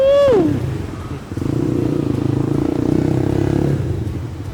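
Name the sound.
WMOTO Hawk 200i motorcycle engine accelerating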